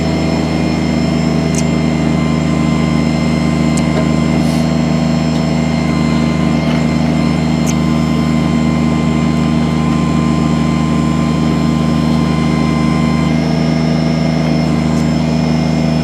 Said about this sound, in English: Very smooth operation on the backhoe.